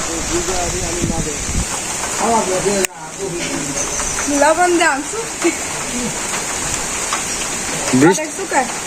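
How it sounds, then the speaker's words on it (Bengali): Light rain falls with some wind outdoors, a steady broadband hiss of drops running under the whole stretch while people talk over it close by. "হালকা বৃষ্টি হইতেছে আবার বাতাসও থাকছে"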